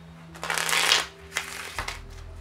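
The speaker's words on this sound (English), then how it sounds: "He gives it a false riffle shuffle" A deck of playing cards is given a false riffle shuffle that keeps the top stock in place, a quick close fluttering burst of cards interleaving followed by softer taps as the deck is squared, heard alone over a faint steady hum.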